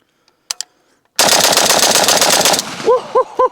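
A Zastava M77 rifle fires .308 rounds at an outdoor dirt berm: faint clicks, then a loud, sustained roaring blast, followed by a few short whooping vocal calls.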